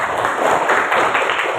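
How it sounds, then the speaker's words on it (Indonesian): Classroom applause from a class XI social studies group, a dense, brief burst of many hands clapping together at close range. "Oke, tepuk tangan dulu."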